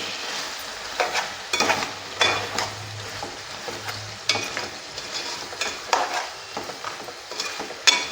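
Chopped tomato pieces go into chicken pulao masala in a pan and fry with a continuous sizzle, broken by repeated scraping stirs of a spoon against the pan, close and fairly loud, with no talking.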